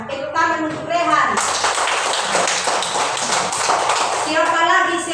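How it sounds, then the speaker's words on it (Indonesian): A classroom of children bursts into applause, a dense stretch of many hands clapping for several seconds, framed by a voice speaking before and after it. "Tepuk tangan untuk Rehan."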